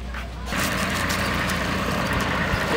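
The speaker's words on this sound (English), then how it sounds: "Getting ready for the tractor ride." A tractor engine idles before a farm hayride at a ranch, a steady low rumble that swells after a brief quieter start and holds loud and constant throughout, with no clear talk over it.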